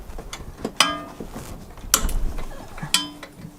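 A 17mm spanner works loose an exhaust bolt while a Manta Performance exhaust is fitted, giving a few sharp metallic clicks and ratcheting knocks, close and fairly loud, spaced about a second apart.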